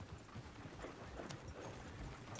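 Horse hooves clip-clop faintly in the Red Dead video game, a soft irregular patter buried in a dense, noisy ambient bed with no clear voices.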